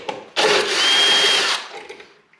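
A 3/8 socket tool loosening a console bolt on a 2014 Harley-Davidson, a loud close whirring burst lasting about a second, then fading to quiet handling sounds.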